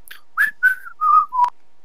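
A single person whistles a short tune of about four or five clear notes, each slightly lower than the last, close and alone against silence.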